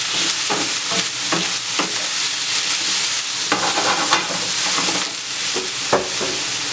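Pepper sizzles and fries in a pan for a Jamaican salt mackerel rundown. The frying hiss is continuous, and stirring scrapes and clatters cut through it now and then.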